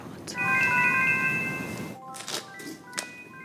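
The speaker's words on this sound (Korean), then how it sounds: "I can hear your phone." A phone ringtone plays a bright electronic melody, pauses briefly, then repeats, with a few soft bumps and knocks around it.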